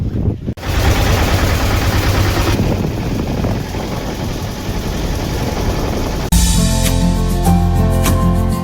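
A vehicle engine rumbles loudly and steadily as the ride sets off on a day trip at Poolampatti, with a continuous heavy drone that shifts character partway through, close by and with no talk.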